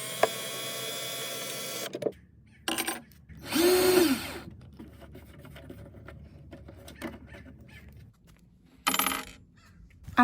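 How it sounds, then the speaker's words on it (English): A power drill backs the hardware out of a bamboo nightstand in several short whirring bursts that spin up and stop, with small metallic clicks and clatter in the quieter gaps between them. "We're going to start this makeover like we always do by first removing the hardware."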